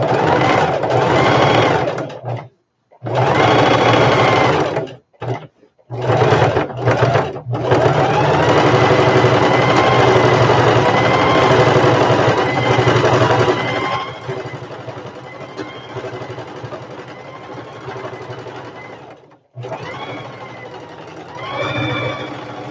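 A sewing machine stitches a simple diaper bag in loud, steady runs of whirring that stop briefly several times, then continue more quietly toward the end.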